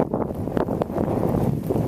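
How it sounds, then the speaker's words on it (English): Strong wind roars and buffets the microphone in a constant low rumble, with gusty rustling and no voices. "It's getting really windy."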